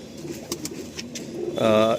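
Pigeons coo softly in low, throaty murmurs close by, followed by a louder, drawn-out coo near the end.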